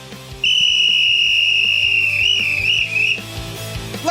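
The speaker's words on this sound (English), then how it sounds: "Blow the whistle." A shrill whistle blown in one long sustained blast lasting several seconds, loud and close, over a bed of background music.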